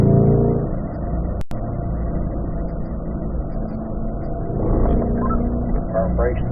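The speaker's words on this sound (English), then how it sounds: "Rolling in the throttle down the hill." A car engine hums and rumbles steadily as the throttle is rolled on going downhill during a driving session, with a voice talking over the engine throughout.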